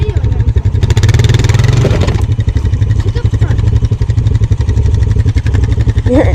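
A 250 motorcycle stuck in a pond with its engine running, a loud rapid clattering pulse that revs up briefly and then settles into a steady chug, with voices heard over it.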